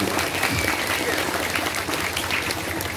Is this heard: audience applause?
yes